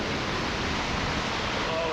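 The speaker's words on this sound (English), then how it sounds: "at this side it's like boom, the churning North Sea, which has been on this rock in the last couple of seconds" Churning North Sea surf breaking against rocks on the Scottish coast, a steady loud broadband roar filling the whole clip with no clear gaps between waves.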